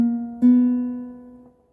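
A guitar plays the short 2-3-0 note sequence from a song's intro: two clean, plucked notes ringing out and fading, close and clear with no talk.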